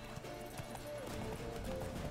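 A horse gallops in the Witcher 3 video game, its rhythmic, fairly close hoofbeats drumming steadily over game ambience and music for about two seconds.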